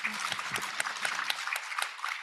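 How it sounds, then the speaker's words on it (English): At a pharmaceutical symposium, a conference audience applauds in a steady patter of many hands, heard from some distance and moderately faint. "Give a round of applause"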